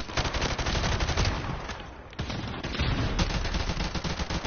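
Sustained automatic gunfire rattles in Call of Duty Modern Warfare Remastered multiplayer, dense overlapping bursts of shots that barely pause, loud and close, with no voices.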